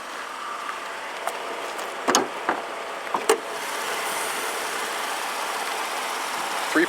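A 2014 Chevy Impala's 3.6 liter direct-injection V6 with variable valve timing idles steadily, a smooth, even hum that continues throughout, broken by a few light clicks and taps near the start, with no talking.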